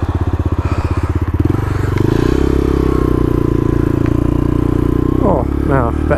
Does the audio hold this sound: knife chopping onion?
no